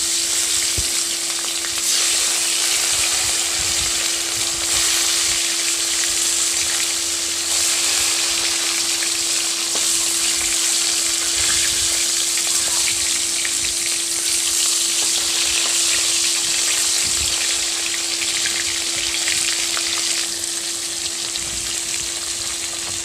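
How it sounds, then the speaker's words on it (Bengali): Koi fish frying in hot oil, the same oil used to fry raw banana, give a loud, continuous close sizzle that holds steady throughout. "এবার ওই তেলেতেই আমি মাছগুলো দিয়ে ভেজে নেব"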